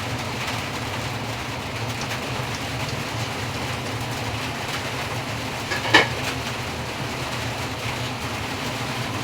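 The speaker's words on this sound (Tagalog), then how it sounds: "lakas kasi ng ulan ngayon eh, kaya walang tigil." Heavy rain falling steadily outdoors near a home kitchen, a dense continuous hiss with no letup and one brief louder tap partway through.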